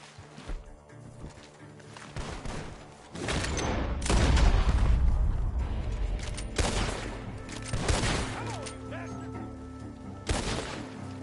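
Bursts of gunfire and booming blasts crack out in clusters over a busy, layered Red Dead Redemption 2 soundscape, some shots sharp and close, others heavier impacts.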